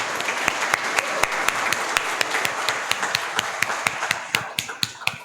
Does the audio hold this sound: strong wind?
no